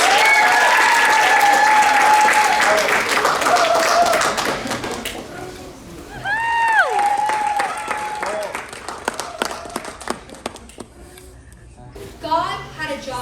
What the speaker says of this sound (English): So please give a round of applause to Nicole Costa.